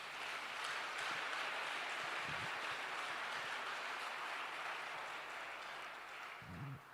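A church congregation applauds the Lord, a sustained wash of clapping from many hands that holds steady for several seconds and then fades slightly toward the end.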